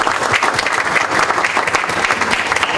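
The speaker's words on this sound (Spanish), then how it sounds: "Un fuerte aplauso." Dense, loud audience applause closing an international disability forum, continuous clapping from a full room with no talking over it.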